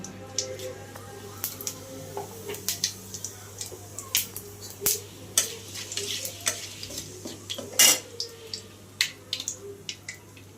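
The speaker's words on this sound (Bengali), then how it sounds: "তরকারিটা এখন বসাবো দুটো তেজপাতা ছিঁড়ে দিয়েছি আর সামান্য পরিমাণ জিরে দেব" Bay leaves and cumin sizzle in hot oil for a rohu fish kalia, a steady crackle broken by sharp pops and light stirring clicks over a low constant hum.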